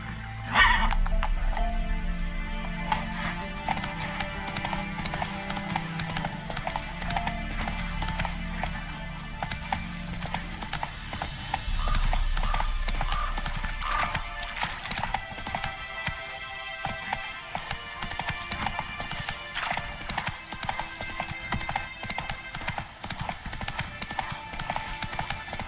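Roach, the horse in The Witcher 3, gallops with a steady run of hoof clip-clops, joined by a brief whinny and light game ambience, heard at moderate volume with no talk.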